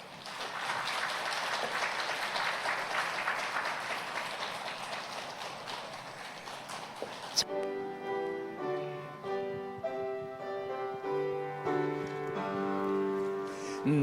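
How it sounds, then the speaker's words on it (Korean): A Sunday worship congregation claps vigorously in a dense, steady burst for about seven seconds, then the applause stops abruptly and hymn music with sustained organ-like tones takes over. "여러분 힘있게 박수해 주시고요"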